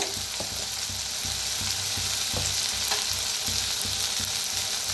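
Chopped onion and masoor lentils with turmeric and red chilli sizzle steadily in a pan, a continuous frying hiss with periodic scraping stir strokes close by.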